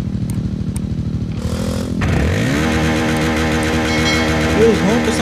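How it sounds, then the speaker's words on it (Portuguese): A Fan 160 motorcycle in a Brazilian motorcycle video game, heard as a loud, buzzing engine that idles and then revs up into a sustained roar with rising pitch, close and continuous. "Os roncos da moto são realistas, velho."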